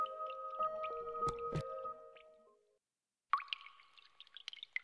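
Water dripping in a water labyrinth in the role-playing video game Labyronia: hollow, tonal drips and plops echo, fall silent briefly, then return as scattered sharper drops.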